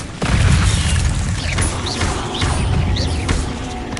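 Incendio fire spell cast in Hogwarts Legacy: a loud close whooshing roar of flame that swells at once and holds steady, with faint swooping magical tones on top and no talking.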